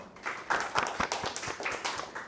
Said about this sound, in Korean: 우리 여기서 박수 한번 칠까요?